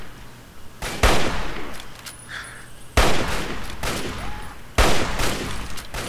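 Hunting rifle firing in the video game Fallout 3: three sharp, loud single shots spaced about two seconds apart, each followed by a brief decaying echo between them.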